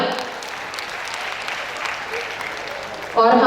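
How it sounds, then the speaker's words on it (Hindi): An audience at the Vikramshila Mahotsav festival applauds loudly in a steady, crowded burst of clapping, with a voice on a public-address system cutting in at the very end. "जोरदार तालियां।"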